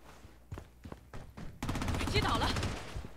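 A few isolated gunshots crack out, then a dense burst of rapid gunfire and game sound effects fills the rest, fairly loud, in the video game Blood Strike.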